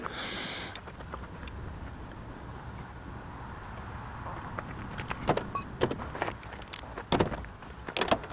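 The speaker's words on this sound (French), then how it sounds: "Donc il suffit de serrer que ça à la clé de 19." Sharp metallic clicks and taps of a 19 mm wrench tightening the nuts and lock washers on a Humbaur trailer's plate, sounding in a loose cluster toward the end over a steady low background hum.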